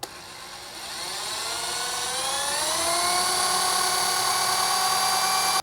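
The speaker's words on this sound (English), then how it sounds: "And now I can just drill straight down." A power drill bores straight down into a Sega Outrun arcade cabinet during repair, a steady high whine that climbs in pitch as it spins up and then holds loud and continuous.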